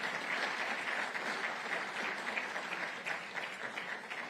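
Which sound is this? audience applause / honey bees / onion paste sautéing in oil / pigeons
audience applause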